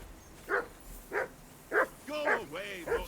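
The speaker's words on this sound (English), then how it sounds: "That barking's driving you nuts." Dog barking in Kingdom Come Deliverance II: four or five sharp, evenly spaced barks, the last ones running into whining yelps, fairly close and loud over a low game ambience.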